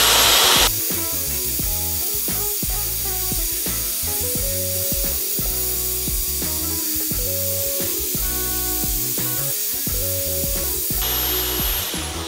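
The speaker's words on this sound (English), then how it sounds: "to refine this shape here, I'm gonna use this spindle sander" A cheap benchtop spindle sander shapes 0.050-inch 3003 H14 aluminum sheet, a loud continuous motor whine with harsh grinding scrapes rising and falling as the metal is pressed against the drum, starting and stopping abruptly, with no speech.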